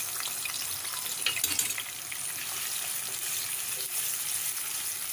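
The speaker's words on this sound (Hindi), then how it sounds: "अब इसके अंदर हम पिसी हुई प्याज और लहसुन का जो पेस्ट था उसको अच्छी तरह फ्राई करेंगे" Ground onion and garlic paste fries in hot oil for baghare baingan, crackling and sizzling up close with a few louder spatters and bursts of stirring, and no voices.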